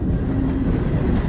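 A freight train rolls past close by, a loud continuous low rumble of wheels on rail with a faint rhythmic clatter, steady across the whole stretch with no speech.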